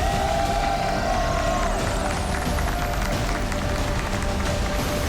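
A loud tournament crowd at a StarCraft II WCS Austin 2018 round-of-8 match cheers and claps steadily for the Mexican Terran player SpeCial, a dense continuous roar with no letup.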